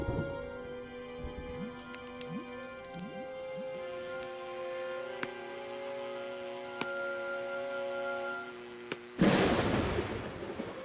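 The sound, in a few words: rainstorm in cartoon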